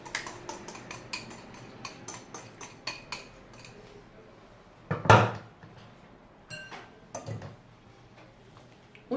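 Melted chocolate and egg yolks stirred in a mixing bowl, a series of close, irregular clinks and scrapes of a utensil against the bowl, with a louder knock midway and quieter clatter after.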